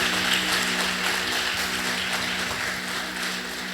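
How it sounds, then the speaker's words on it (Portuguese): A church congregation applauds during a family celebration service, a steady, dense wash of many hands clapping that holds evenly throughout at moderate loudness. "dê um aplauso a Ele em nome de Jesus"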